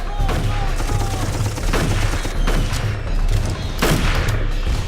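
A fully automatic weapon fires in the Darkest of Days video game, loud rapid bursts repeating in several waves with booming impacts, and a voice talking briefly at the start.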